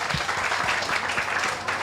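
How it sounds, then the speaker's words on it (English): A short burst of applause from the audience at the Martha's Vineyard African American Film Festival, a dense wash of clapping at an even level with a few deeper thumps underneath. "Can we give them a round of applause?"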